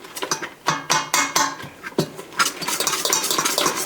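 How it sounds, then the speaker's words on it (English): A whisk twirling through a powdered mixture in a bowl for keto bread, giving a quick run of rhythmic scraping clinks against the bowl, close and fairly loud, with no talk. "Another twirl with the whisk."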